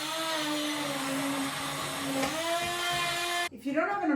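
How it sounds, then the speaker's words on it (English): An immersion blender purees leek and potato soup with a loud, steady high-pitched motor whine that dips briefly in pitch partway through, then stops abruptly, leaving faint clattering and a voice. "I'm going to use an immersion blender to puree the soup"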